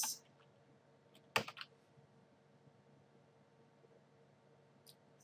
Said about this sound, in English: So if I type in, say, Proxy Chains Firefox.